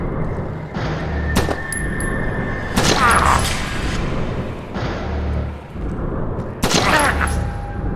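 Video game gunfire during combat in Crying is not Enough: a few separate bursts of loud shots and booms with ringing tails, spaced a few seconds apart, over a continuous game background.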